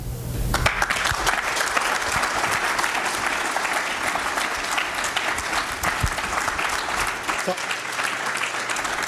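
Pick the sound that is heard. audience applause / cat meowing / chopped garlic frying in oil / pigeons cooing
audience applause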